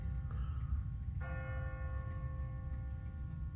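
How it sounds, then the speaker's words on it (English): Church bell in The Walking Dead video game tolls on an automatic timer, a single ringing strike with a long sustained hum, heard over a steady low rumble of game ambience. "What kind of church bell goes off at 20 past the hour?"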